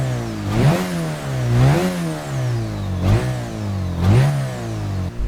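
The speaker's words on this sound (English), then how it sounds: "I think my favorite part is when you just snap the gas like this" A drift car at Tsukuba Circuit has its throttle snapped repeatedly: four sharp revs that rise and fall back to a loud, close, steady idle, with no talking.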